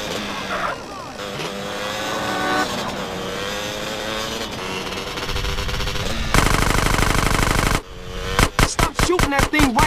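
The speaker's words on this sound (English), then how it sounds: "Stop shooting that thing right next to my ear!" Rapid gunfire from a gun in GTA San Andreas during a car chase, a fast stuttering burst near the end over a steady car engine, with voices shouting and music underneath.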